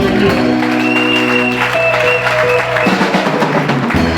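A church congregation at a Sunday service cheers and claps loudly and steadily, a dense wash of applause with sustained instrumental music playing beneath it.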